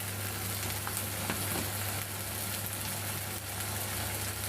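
Meat sizzles steadily in a pan with turmeric and chili powder, a dense continuous crackle with a low steady hum underneath, close and even throughout with no voices.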